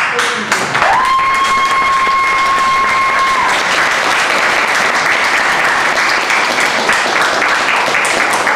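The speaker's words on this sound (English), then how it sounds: "let's give a round of applause for Mr. David Ford" A theater audience on opening night gives Mr. David Ford a round of applause: loud, full clapping that swells right away and holds steady, with a sharp whistle sounding early on.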